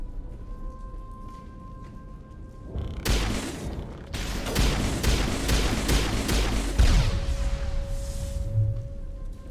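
Rocket launcher fire and a run of explosions in the Mass Effect video game, a dense burst of blasts and crackling debris that starts abruptly and keeps going as loud, overlapping impacts before settling into a low rumble.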